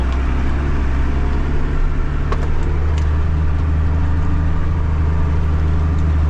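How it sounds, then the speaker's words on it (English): A tractor in second gear and four-wheel drive pulls a harrow across a field, its engine a loud, steady low drone running throughout with no talking. "second gear, 4-wheel drive should be on. Drop the harrow, and away we go."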